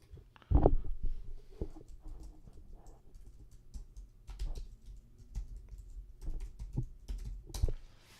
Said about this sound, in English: I'll type it into the chat.